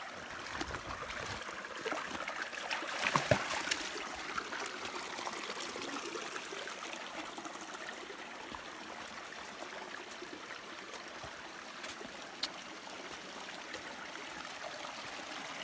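A creek flows over rocks in a steady, soft wash of running water, faint and continuous, with a few brief knocks and rustles from people walking along it.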